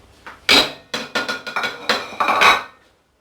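Gulab jamun are dropped into sugar syrup in a pan, making a close series of about eight clinking, clattering hits from a spoon and pan, with no talk.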